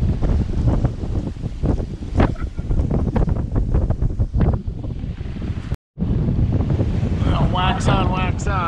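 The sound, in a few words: wind blowing over a sailboat at sea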